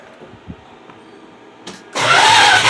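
A rebuilt 318 V8 in a 1976 Dodge Coronet squad car cranks briefly and then catches, breaking into a loud, steady running roar that fills the last second of the clip after a quiet lead-in.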